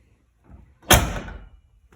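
The door of a Fox Body Mustang is opened: a soft faint rustle and then a single short, fairly quiet latch thunk and swing, heard close and alone.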